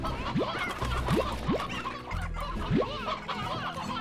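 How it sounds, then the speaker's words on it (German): Chickens cluck in the video game Slime Rancher, giving several short rising clucks over a steady background of game music and ambience, fairly close and moderately loud. "Ihr kriegt hier nochmal 2 Hühner."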